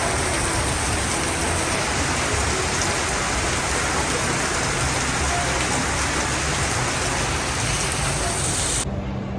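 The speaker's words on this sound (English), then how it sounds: "it's a rainy day today. I even tried to do this intro outside. It was not possible. The rain was coming down so hard." Heavy rain pours down in Kuala Lumpur, a loud, dense and unbroken hiss of drops on surfaces that stays even throughout before cutting off abruptly at the very end.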